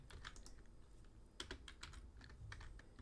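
Quick, quiet clicking of keys on a computer keyboard while writing C code, with irregular tapping rhythm and a few louder strokes, alone without speech.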